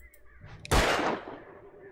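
A single loud gunshot in the Alan Wake video game cracks out at a target in a forest by a strong river current, followed by a long fading echo over quiet ambience.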